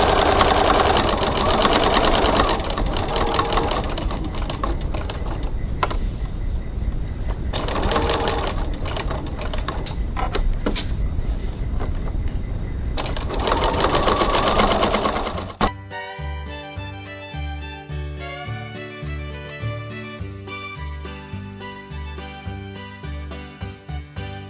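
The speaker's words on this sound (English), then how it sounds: "Going to stitch up to my line." Sewing machine stitching a crossbody bag strap at a 3.3 stitch length: a steady, fast, loud mechanical whir runs for about fifteen seconds, then stops abruptly and leaves only background music.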